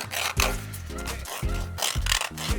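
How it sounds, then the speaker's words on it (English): Nail file board rasping across fingernails during a poly gel nail kit manicure: close, repeated short strokes in an uneven rhythm, light scraping passes ending in softer buffing, no voices. "doing a little filing, and then buffing at the top"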